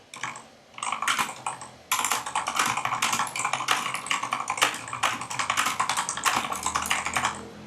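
Rapid typing on a computer keyboard while writing in Word for Mac, a steady close clatter of keystrokes in bursts with brief pauses, no voices.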